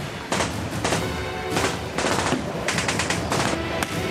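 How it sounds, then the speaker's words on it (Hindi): Police return fire during a shootout with armed men: repeated bursts of automatic gunfire, several rapid volleys separated by brief gaps, loud and sharp against a constant rumbling background. "ये जवाबी फायर है पुलिस की तरफ से"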